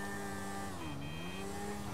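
A BMW 1100R naked motorcycle in GTA V, its engine note holding steady, then dipping and rising again as the revs change, with a faint whine over a low rumble, continuous and fairly quiet.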